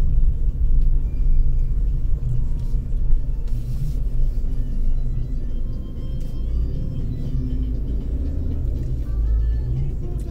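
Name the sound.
street traffic with cars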